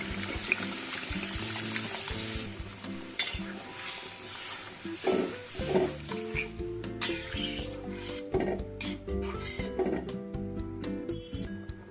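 Dal and water go into hot ghee tempering for a quick vegetarian veg dal, with stirring, pan clatter and a moderate sizzle, close and busy throughout, no talking.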